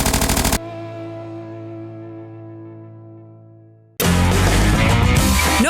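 Bursts of rapid automatic fire from an 1876 Gatling gun, loud and close: a short volley at the start, a long ringing, slowly fading tone, then heavy, sustained firing again near the end.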